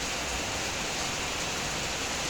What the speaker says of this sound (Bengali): হঠাৎ করে বৃষ্টি, প্রচুর বৃষ্টি হচ্ছে